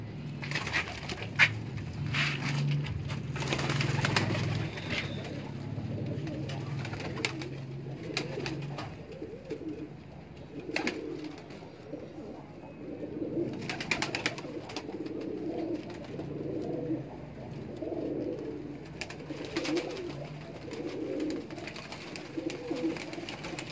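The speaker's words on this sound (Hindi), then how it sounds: "ब्रीडर कबूतर है माशाल्लाह" Breeder pigeons in a large loft setup coo in low, rolling bursts, with a heavier stretch early on and softer repeated coos later, close and steady over a busy background.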